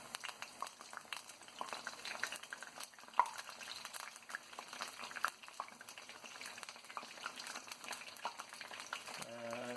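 Aubergine pakora fry in hot oil with a steady, dense sizzle and bubbling, and soft scraping and clinks are heard as the pieces are turned over in the pan.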